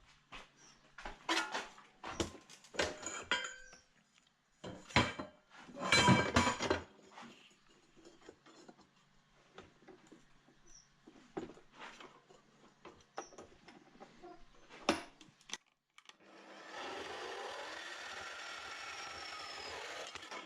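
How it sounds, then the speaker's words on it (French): A power tool cuts flush through metal while a tractor three-point hitch is being fabricated. A steady, loud grinding whine runs through the last few seconds, after earlier scattered clanks and bursts of shop noise. "Et maintenant je vais pouvoir couper à ras."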